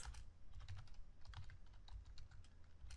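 Code is typed on a computer keyboard in a steady, quiet patter of key clicks, close and continuous, with no voices.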